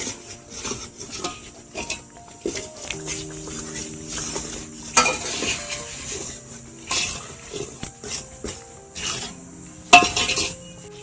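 Bhaji vegetables are tipped into sizzling village-style pav bhaji gravy and stirred, producing irregular clanks and scrapes of a spoon against the pan in bursts over a faint background sizzle, with no talking.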